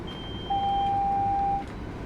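The DSD alarm in a Class 700 train cab in Train Sim World 4 sounds as a single steady electronic beep lasting about a second, clear over a low cab rumble.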